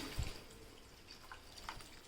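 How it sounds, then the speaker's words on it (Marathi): Faint trickling and splashing of water into a pot of dry fish curry, soft and close, with a few light drips and no voices. "आता आपण ह्यामध्ये पाणी घेऊयात मस्तपैकी रश्श्यासाठी"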